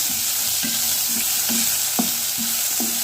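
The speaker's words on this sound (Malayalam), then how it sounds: "സവാള ചേർത്തെടുക്കാം ഒന്ന് നമുക്ക് ജസ്റ്റ് ഒന്ന് വഴറ്റി കൊടുക്കാം" Chopped onion, one large one, sautés in a pan with steady sizzling while a utensil scrapes and stirs in repeated strokes, close and continuous, with no talking, while spinach is being cooked.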